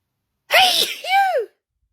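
A single loud, close sneeze in two bursts, a sharp intake-like first part followed by a forceful explosive release, from a person in the middle of a sneezing fit, in a quiet room.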